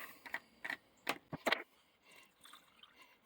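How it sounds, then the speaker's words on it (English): Water goes into a rock tumbler barrel holding rocks and grit, sounding as a few sharp splashes and clinks in the first second and a half, then a soft, quieter trickle. "Now I'll put some water in."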